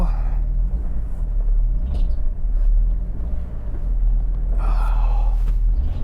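A neglected, long-abandoned Jeep XJ's engine revs, a loud continuous low rumble that swells and falls over several seconds, with a brief breathy voice sound near the end.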